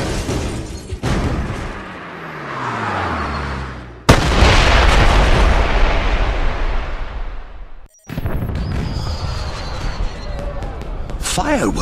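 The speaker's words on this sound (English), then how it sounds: "Did you know there were going to be fireworks?" Fireworks burst in a James Bond 007: Blood Stone cutscene, loud booming explosions with crackling tails, interrupted by abrupt cuts, alongside music and spoken dialogue.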